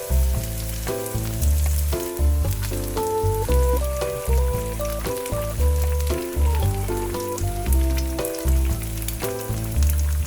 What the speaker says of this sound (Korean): 계란을 팬에 넣어주세요.